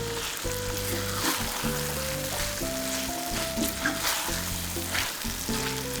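Marinated chicken sizzles and fries steadily in a pan for a Malaysian-style ayam vanggey, a crackling hiss that continues throughout, with soft stirring and no talking.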